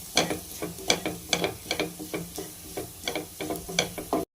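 Spices and garam masala frying in a pan for prawn fried rice, stirred with a utensil that scrapes and taps the pan in a quick regular rhythm over a steady close sizzle.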